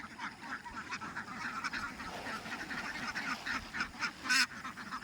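A flock of ducks being driven along by a couple who raise them, a busy, continuous chorus of quacking and honking calls from many birds at once, fairly close, with no talk.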